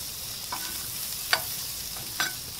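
Grouper fillets cooking in butter on a hot Himalayan salt block give off a soft, steady sizzle, with a few brief louder pops and crackles and no talking.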